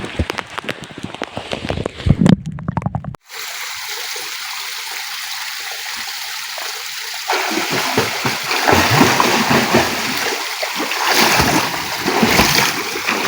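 Someone wading into a waterfall pool raises loud, close splashing over the constant rush of falling water. The splashes swell and churn after a brief cut near the start.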